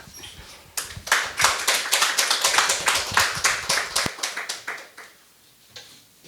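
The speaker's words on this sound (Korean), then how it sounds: "조경배 교수님의 큰 박수로 기조 발제로 맞아주셨으면 좋겠습니다." A modest audience at a Korean academic law conference claps to welcome a keynote speaker. Individual hand claps are distinct, building quickly into a rhythmic patter that thins out over about five seconds before a few last claps.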